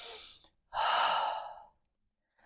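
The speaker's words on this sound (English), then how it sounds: "Big breath here." A deep breath taken during a low-back yoga therapy session, with a soft breath, a pause, then a long, full, close exhale, and another breath beginning at the end.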